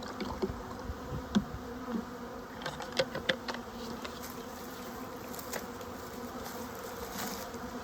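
Honey bees from a package being installed into a top bar hive drone with a steady insect hum, plus scattered closer buzzes and wingbeats darting past over the continuous swarm noise.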